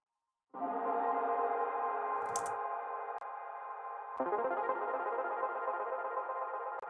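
A sustained melodic synth tone drenched in vast, space-like reverb rings out after a short silence, holding a dense harmonic drone that shifts pitch once partway through, with a few faint clicks layered on top.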